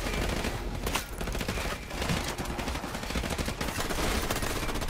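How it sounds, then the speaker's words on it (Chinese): Gunfire in the video game Call of Duty 4: Modern Warfare Remastered, with rapid automatic bursts and scattered shots that rise and dip in dense, overlapping volleys, fairly loud and continuous with no talk. "枪声渐弱"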